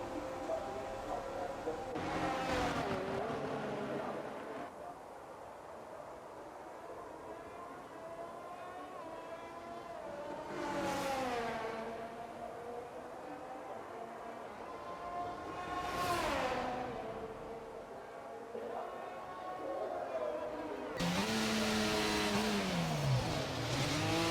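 A Formula One racing car in the F1 22 video game laps a circuit, its engine droning and rising in pitch through repeated revving sweeps and gear changes, steady and fairly loud throughout.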